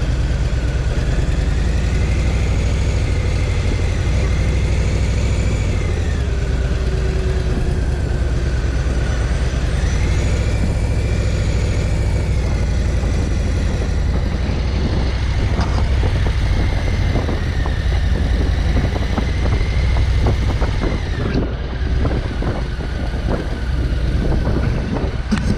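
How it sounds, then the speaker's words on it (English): A Harley-Davidson Softail Standard motorcycle engine runs loud and close, a continuous deep drone whose pitch rises and falls with throttle, ridden by a nervous beginner turning around. "I can't believe I'm actually riding the Harley."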